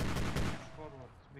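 Gunfire in the military shooter Squad: a quick loud burst of shots in the first half second, then a fade into quieter background with a faint voice afterward.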